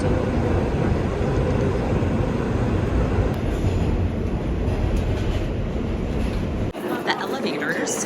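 Steady rumble and roar of a moving airport train carriage throughout, loud and continuous, with the noise briefly dropping near the end.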